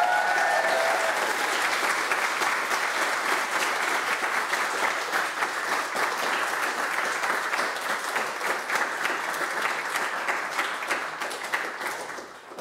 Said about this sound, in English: Round of applause for Rafi.